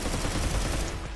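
A turret in the Synthetik shooter game fires a rapid, dense burst of gunfire, loud and close, sustained for about a second.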